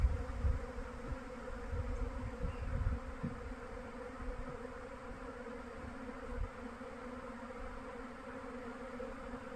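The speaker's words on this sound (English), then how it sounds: "This is another bee's nest. Can you hear this? It's a lot of bees. That's a swarm." A swarm of bees at a nest in hot Southern Arizona, a dense, steady buzzing drone with faint low rumbles of wind or handling underneath.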